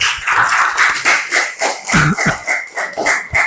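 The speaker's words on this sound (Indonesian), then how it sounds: "Beri aplaus dulu." Classroom applause from students during a counseling lesson, a dense run of clapping filling the whole stretch, fairly close and steady with a few louder hand strikes.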